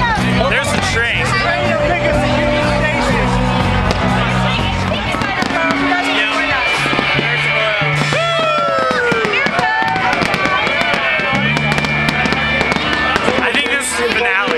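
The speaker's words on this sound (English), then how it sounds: "Now we're just enjoying some fireworks." A fireworks display bursts with repeated booms, crackles and whistling rockets, loud and near, while a crowd chatters and calls out throughout.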